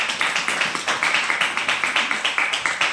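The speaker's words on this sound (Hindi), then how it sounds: "जब मैं ऑफिस आया तो मनोज सर के लिए एक बार जोरदार तालियां होनी चाहिए" Rhythmic clapping at a Modicare success-testimonial gathering, with hands striking in a quick, even beat throughout, close and fairly loud.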